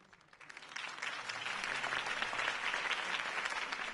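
Crowd applause after a campaign speech in the Batman Telltale video game, swelling from faint to a full, steady wash of clapping that stays loud to the end.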